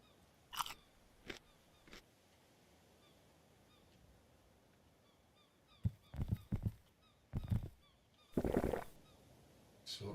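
Seagulls call in a Pacific sailing survival game: short, sharp squawks come singly at first, then in a denser cluster of calls, over a quiet background.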